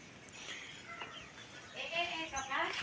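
Chickens clucking at close range over a busy farmyard background, with other birds and faint activity around them.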